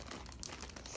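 Plastic toy packaging crinkles and crackles continuously as it is handled and opened, a close, busy rustle with a few sharper crunches.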